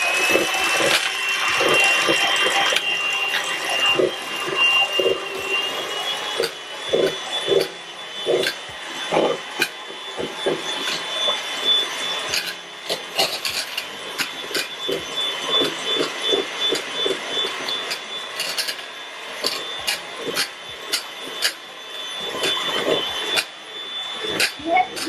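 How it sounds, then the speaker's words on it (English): Eggs whisked by hand for a caramel meringue, with a continuous rapid, rhythmic clicking and scraping of the whisk against the bowl at close range. "And you're gonna keep whisking."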